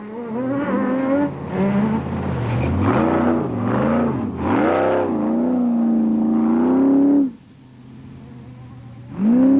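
A Ford rally car in the Sun City 400 of 2004 roars loudly nearby, its engine climbing through the gears with repeated rising revs, dropping briefly near the end before surging again.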